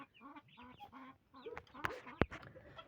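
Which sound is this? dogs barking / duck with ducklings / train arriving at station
duck with ducklings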